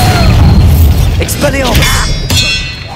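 A Bombarda spell blast in Hogwarts Legacy, heard as a loud booming impact with clanging debris and crackling magic over constant game noise, with a brief voice underneath.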